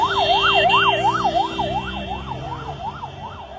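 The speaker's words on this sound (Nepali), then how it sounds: "एम्बुलेन्स यहाँनिर गइरहेको छ।" A wailing ambulance siren sweeps up and down in a regular, rapid cycle during a street clash in Kathmandu, loud at first and then fading as the vehicle pulls away, over low traffic rumble.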